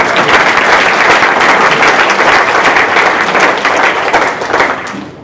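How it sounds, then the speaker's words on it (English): Dense, steady applause from a large audience fills the room for a 7th grade English teacher at a political town hall, loud throughout and easing slightly at the end. "Give them a round of applause"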